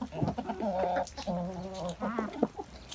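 Close-up young Livensky calico roosters cluck and chatter in quick, uneven bursts while eating apples, several birds calling over one another.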